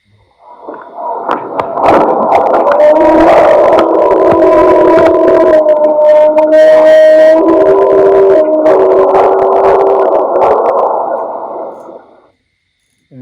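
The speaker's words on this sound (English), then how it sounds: "that's a roar, an example of a roar." A purported Bigfoot roar recorded outdoors in dry weather, a long, loud, wavering howl-like cry with tonal siren-like layers, sustained for about ten seconds before cutting off.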